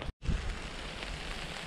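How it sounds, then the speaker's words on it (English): Small hail pelts a tent on the Mogollon Rim, a dense steady patter of tiny frozen pellets that drops out briefly near the start and then resumes close and even. "It's actually baby hail is what it is."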